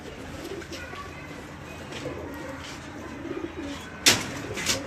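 Breeder pigeons in a Lahore loft give low soft coos amid faint chirps and rustling, with a sharp flap or knock near the end and a quiet background voice.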